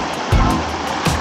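A strong river current rushes past nearby in a loud, steady wash with a couple of brief surging swells.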